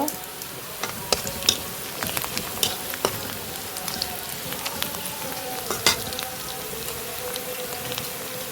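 Panch phoron spices hit hot oil and crackle close by in a dense, busy sizzle. Sharp little pops burst irregularly over the hiss for several seconds, with no talking.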